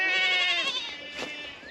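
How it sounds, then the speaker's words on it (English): A goat bleats loudly behind a person outdoors, one long wavering cry that tails off, followed by a fainter call. "You can see who's hollering at me behind me. We do have goats."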